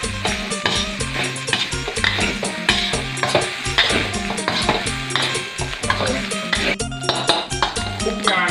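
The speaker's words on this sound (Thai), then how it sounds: "แล้วก็ผัดให้เข้ากันเลยนะครับ" Shallots being stir-fried into Thai fried rice with chili paste and mackerel in a pan, with busy scraping and clinking of a utensil against the pan over constant sizzling, close and loud under a steady music bed.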